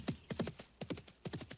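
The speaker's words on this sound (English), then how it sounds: "So we can hop back on our horse." Hooves clip-clop in a video game as a horse is ridden, in three quick bursts of two or three close, hollow knocks each, alone and fairly loud.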